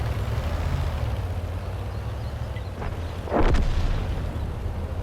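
A Rheinmetall Borsig tank gun firing on the Prokhorovka map in World of Tanks, a single distant boom over a constant low rumble of battle noise.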